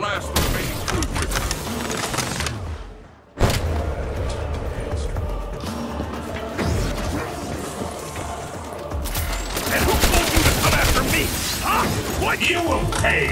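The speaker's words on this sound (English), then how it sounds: "Take his cannon and blast the remaining troopers." In Black Ops 3, a cannon blasts away at troopers amid dense, continuous gunfire and explosive bursts, with one brief lull partway through and the barrage piling up loud and chaotic again afterwards.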